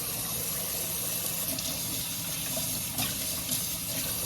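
Lukewarm tap water runs steadily into a kitchen sink while raw chicken is rinsed under it, a continuous close splashing gush with a few brief louder spatters.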